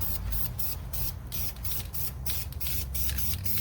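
Spray can of epoxy flat black paint hissing in rapid short bursts, close and steady, with quick pulses of spray repeating roughly every third of a second.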